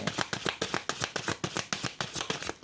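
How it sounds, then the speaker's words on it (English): Divination cards are riffled and shuffled in a rapid, even rhythm of crisp flutters, close and clear, with no talking. "I'm taking off the top of the end of the shuffle"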